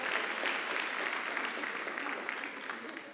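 A fairly quiet round of applause from a class audience, a continuous patter of many hands that tapers off toward the end, with faint voices mixed underneath.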